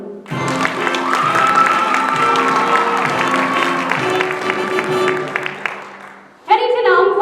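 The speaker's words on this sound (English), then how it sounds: "a warm round of applause for our guest artiste tonight" A theatre audience applauds a performer: a warm, dense round of clapping that swells quickly and holds for about six seconds before fading, then a brief burst of louder sound with a voice at the end.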